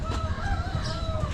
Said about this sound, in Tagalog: Pangit pala tong manok na to.